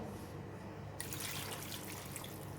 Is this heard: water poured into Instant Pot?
yes